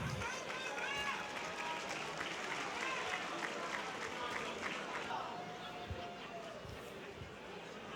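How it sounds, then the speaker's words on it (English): A crowd applauds at a boxing event, giving a broad, steady wash of clapping and cheering throughout, with voices talking over it. "Once again, a round of applause."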